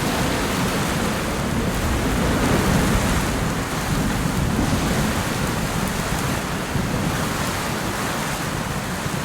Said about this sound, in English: we've really found a great place to hold up during this big old storm.